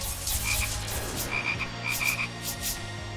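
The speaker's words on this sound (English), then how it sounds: "Oh god, look at all the frogs." Frogs croak in a video game, a dense chorus of rapid, repeating croaks that comes in bursts over steady background game noise, with no voices.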